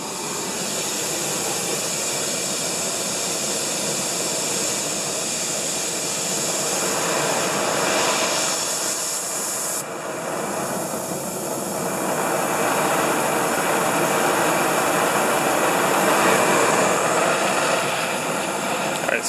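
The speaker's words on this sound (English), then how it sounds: "we're going to just heat the manifold here all around the stud" A torch flame heating a car exhaust manifold around a broken collector stud, a loud continuous roaring hiss that holds steady throughout with slight swells, no talking.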